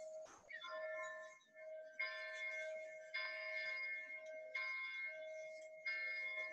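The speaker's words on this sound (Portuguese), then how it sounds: "E aí o sino tá batendo por quê" A church bell rings out in repeated metallic strikes with long humming overtones, sounding a warning of invaders; about five evenly spaced peals, faint and distant, with nothing else heard.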